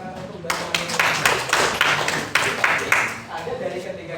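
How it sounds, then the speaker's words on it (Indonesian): A classroom group claps for a student, a burst of brisk applause from several people lasting a few seconds, with voices talking over it. "tepuk tangan untuk Mbak Samira"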